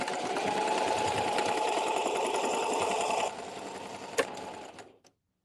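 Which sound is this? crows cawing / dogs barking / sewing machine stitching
sewing machine stitching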